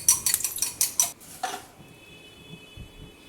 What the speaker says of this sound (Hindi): अंडे को फेंट लेते हैं।